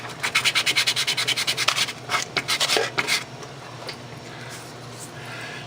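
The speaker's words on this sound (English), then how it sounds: "Just running it a little bit of sandpaper there." A 3D-printed drone propeller adapter rubbed back and forth on sandpaper, a close rhythmic series of about a dozen scratchy strokes, then a few slower, uneven passes before it stops.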